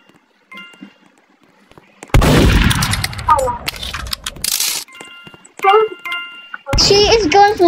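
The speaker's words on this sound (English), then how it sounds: "What are you shooting?" Gunshots ring out in the Roblox game Murder Mystery 2 as a sudden loud burst with a long decaying tail, followed by further sharp cracks mixed with game chimes and excited voices.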